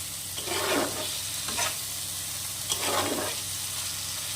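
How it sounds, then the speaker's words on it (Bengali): Prawns sizzle in a pan with spices as they are stirred for chingri bhuna, three scraping, spatula-driven bursts of frying over a steady low crackle, with no speech. "চিংড়ি মাছ তো একটু নেড়ে চেড়ে এর সাথে দু মিনিট কষিয়ে নিলেই ভাজার মতোই হয়ে যাবে"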